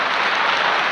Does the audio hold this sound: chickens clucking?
no